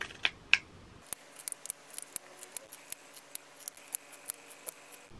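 Small scissors snip fleece fabric repeatedly in a quiet room, a steady series of crisp, close cuts spaced about every half second.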